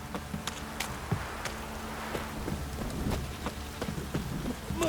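Steady rain in The Witcher 3, a constant hiss of water on surfaces with scattered louder drops and a faint low rumble of thunder, no voices.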